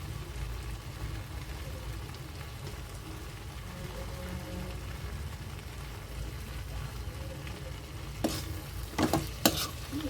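Mutton and vegetables in masala stirred in a pan, a continuous close sizzle and frying hiss with soft scraping, then a few louder clanks of the spoon against the pan near the end.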